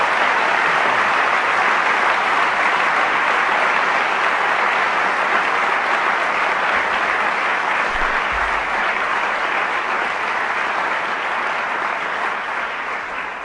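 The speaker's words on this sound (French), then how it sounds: "J'aimerais vraiment vous demander de l'applaudir encore une fois." Audience applauding Ban Ki-moon, former UN Secretary-General, at a UN and Switzerland event, with a long, even, dense wave of clapping.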